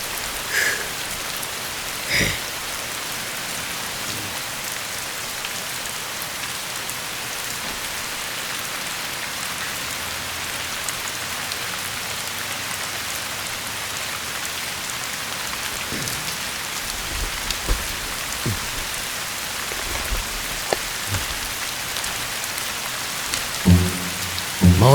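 Heavy rain pours down on surfaces outside a house, a dense unbroken hiss with scattered louder drops and knocks near the end, and no voices.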